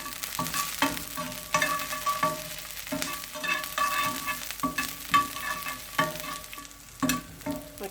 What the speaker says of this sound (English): Right, stir those around.